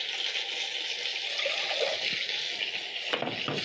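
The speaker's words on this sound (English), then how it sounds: "I'm going to add in 2 cups of cold water into my pot." Cold water pours steadily from a measuring cup into a cooking pot for rice, a continuous close splashing wash with a few heavier splashes near the end, no talk.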